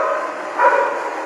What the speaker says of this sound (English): Yeah, whose dog is it?